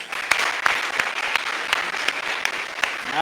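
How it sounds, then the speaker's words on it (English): Audience in the Gurko Panorama Theatre Hall in Sofia claps during an awards evening, a dense, even burst of applause with sharp individual claps standing out across the whole stretch. "Applause again."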